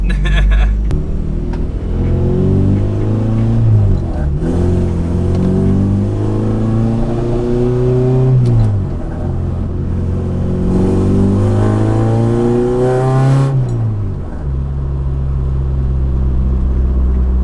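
An Acura RSX with a return-style fuel system revs loudly and up close under throttle. Its pitch climbs and falls in several long sweeps before settling back to idle.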